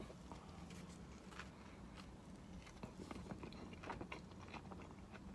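Biting and chewing on a kafta and steak plate with hot sauce from a Providence, Rhode Island eatery, soft close crunches and mouth noises scattered over a steady low room hum, with no talking.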